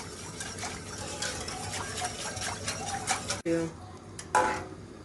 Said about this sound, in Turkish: devamlı karıştırıyorum böyle